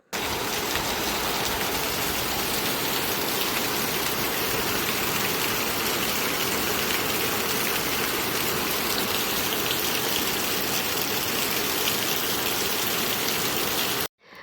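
Heavy rain pours down in the countryside near an outdoor cooking area, a loud, dense, continuous roar of drops drumming on surfaces that stops abruptly at the end.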